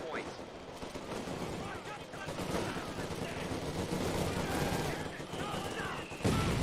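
Rapid machine gun fire in a World War II real-time strategy game with a US forces faction, dense crackling bursts over continuous battle noise, with talk running underneath.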